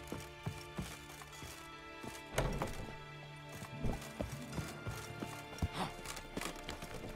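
A horse ridden at a gallop in The Witcher 3 video game, with rhythmic hoof clip-clops and thuds under faint background ambience, moderately near and soft overall.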